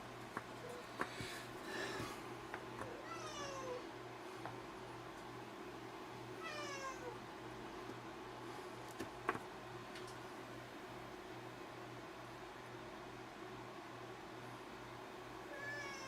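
Bud the cat meows at close range: a few rising and falling meows spread across the span, with soft ticks and clicks of a workbench and a steady low hum of a room appliance beneath.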